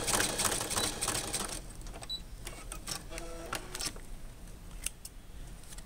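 Sewing machine stitching through Capri Sun juice pouches to close the side of a party favor bag, a fast rattling mechanical chatter that runs continuously and close, easing slightly partway through.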